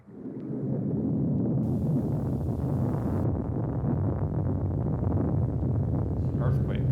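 Earthquake recording: a continuous deep rumble with a broad, roaring texture, swelling in quickly and staying loud and even throughout.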